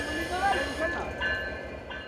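A trial train runs across the Padma Bridge in Bangladesh, its rumbling wheels and rhythmic clacking close and steady while a voice talks over it.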